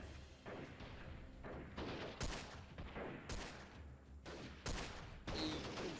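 Revolver fire in the video game Freeman: Guerrilla Warfare: a string of loud, sharp gunshots with booming tails, spaced irregularly over several seconds, with fainter shots between them and no voices.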